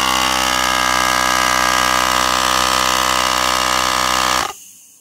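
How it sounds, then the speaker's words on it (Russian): A compressor runs loudly and steadily, pressurizing a fuel pressure regulator for testing, with a constant mechanical drone and hum that cuts off abruptly near the end. "Включаем компрессор."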